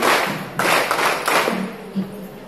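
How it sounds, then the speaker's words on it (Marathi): A crowd at a health-awareness program for ASHA and anganwadi workers claps in loud, uneven bursts of hands with some thumping taps, swelling and fading in waves before tapering off. "तर जोरदार टाळ्या महानगर गॅस लिमिटेड वाल्यांसाठी पण"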